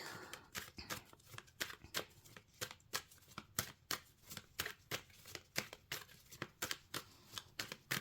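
Tarot cards being shuffled and handled, giving a steady run of crisp riffling and flicking bursts about twice a second, fairly close and soft, with no talking.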